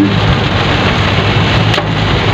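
Steady rain falls on an outing in Obando, Bulacan, a continuous dense wash of drops hitting surfaces, loud and close, with no talk over it.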